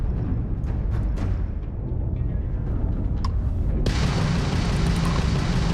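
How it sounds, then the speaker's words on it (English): Crimson Fleet ship weapons firing in Starfield ship combat, a sustained rumbling barrage of booms and bursts that shifts into a brighter, harsher roar partway through. "that's a Crimson Fleet ship bringing its weapons to bear"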